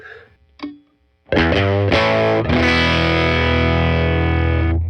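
Electric guitar through a Boss Katana amp running a Woodrow amp simulation with an Alnico Blue speaker sound, chimey and distorted: a brief pluck, then loud sustained strummed chords ringing out with effects.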